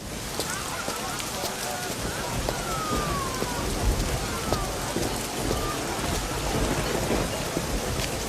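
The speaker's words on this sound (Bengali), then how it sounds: "দেখো বৃষ্টি এসেছে, এটা ফাদ্দানের দুর্ভিক্ষকে তাড়িয়ে দেবে।" Steady rain falls with a dense, even patter close by, with faint low rumbles that could be thunder under a continuous wash of drops.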